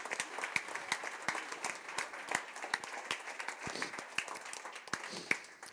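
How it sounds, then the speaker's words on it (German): Steady audience clapping for Fabi and Mats after an opening address at a Bitcoin event, with sharp individual claps that stand out from a continuous wash and hold evenly for several seconds with no talk. "Also großen Applaus für Fabi und Mats"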